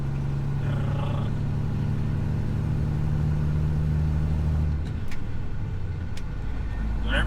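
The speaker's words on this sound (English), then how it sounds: "whenever you give her throttle, you hear that clang?" A truck's engine rumbles steadily from inside the cab, with a low metallic clang as throttle is given and a shift in tone near the end.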